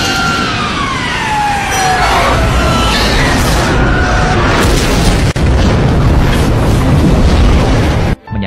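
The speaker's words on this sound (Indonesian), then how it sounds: "Menyaksikan pesawat terbang melewati matanya dan meledak" A loud, sustained roaring blast of an exploding airplane with a wailing siren sweeping through it, dense and continuous before cutting off abruptly at the end.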